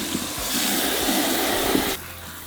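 Running water rinses strawberries, giving a steady close hiss of flowing water for about two seconds that then stops abruptly.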